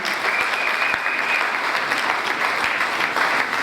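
A church congregation at a Sunday service breaks into loud, sustained applause that fills the room evenly for several seconds, with a brief whistle-like tone early on and no clear speech.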